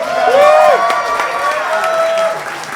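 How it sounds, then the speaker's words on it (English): Audience applause and cheering for a guest on a live podcast game show, a steady wash of clapping lasting throughout, with voices and whooping tones riding over it. "And keep your applause going, folks."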